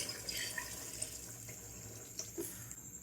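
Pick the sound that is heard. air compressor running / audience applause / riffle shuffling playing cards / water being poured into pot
water being poured into pot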